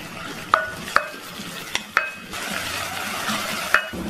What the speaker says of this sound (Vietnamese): Và chúng ta cho cái phần sả cũng như là gừng, ớt và tỏi, hành vào trong này, chúng ta phi lên cho nó thơm nè.